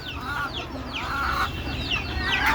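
A flock of chickens clucks and squawks at feeding time, with overlapping busy calls close by, steady and moderately loud over a low background rumble.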